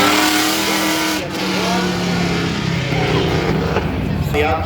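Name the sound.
race cars speeding through a turn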